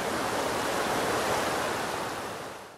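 Rapids at Riam Bajandik on the upper Benawa River in Hulu Sungai Tengah, South Kalimantan, rush as a steady, loud, close broadband roar of churning water that eases slightly toward the end.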